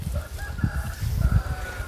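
A rooster crows and clucks amid a rural market, short repeated calls over a busy low rumble of voices and movement nearby.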